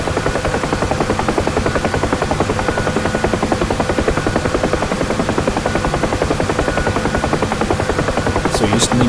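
A UH-1 Huey helicopter in the DCS flight simulator drones steadily with a loud, continuous rotor thump and turbine hum for the full stretch, with no speech over it.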